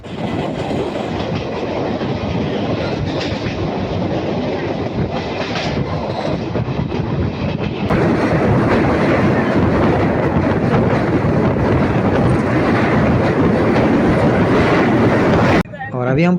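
A train rumbles steadily along the Udhampur to Katra railway line, a route of tunnels and bridges, with loud continuous clattering wheels and track noise that grows denser midway and cuts off abruptly near the end.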